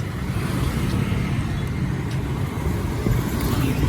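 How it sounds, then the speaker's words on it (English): Street traffic on a road in Vietnam after lockdown: a steady, dense wash of passing cars and engines with a continuous low rumble, fairly close, with no talking. "Cars just do U-turns wherever."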